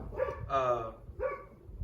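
Dogs bark in short repeated bursts, two or three loud barks a little apart, heard in a home during a review of garden lights.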